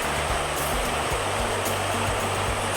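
Steady roar of Njandirukki Waterfalls, loud and continuous, a dense rushing wash of falling water with no voices.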